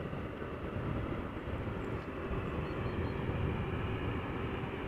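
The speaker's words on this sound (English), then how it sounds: "Avanti Air, de Havilland Dash 8 400, 19 years old, first flight January 2004. Going to land on the Schiphol Oostbaan runway 22." An Avanti Air de Havilland Dash 8-400 turboprop, 19 years old, on approach to land on Schiphol's Oostbaan runway 22, giving a steady, loud broadband engine roar that holds evenly throughout with no voices.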